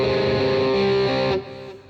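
A sustained, heavily distorted electric guitar chord rings loud and thick, then is cut down abruptly to a quieter decaying tail; no voices.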